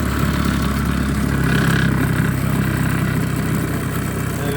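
A Mamod Minor toy steam engine runs steadily, its flywheel turning with a continuous close chuffing hiss and mechanical rattle, loud and even throughout with no voices.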